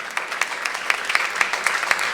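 A church congregation claps for God during a worship service, a brisk, fairly close patter of many hands with sharper individual claps standing out in an uneven rhythm.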